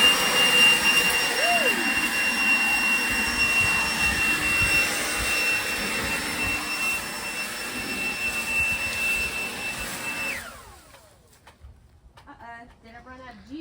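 A Greenworks battery-powered garden tool runs with a steady, loud whirring drone under outdoor background noise, then winds down and stops near the end as the battery runs out.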